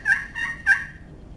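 A turkey hunter's double glass slate call played close and clear, giving three short, high, raspy hen yelps in quick succession, then silence.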